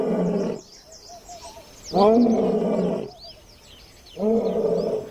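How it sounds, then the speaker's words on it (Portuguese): Male lion roaring to claim its territory on the savanna, three deep, loud groaning roars spaced a second or so apart, with birds chirping faintly in the quiet gaps between them. "Seus rugidos avisam aos machos rivais de que este território é dele."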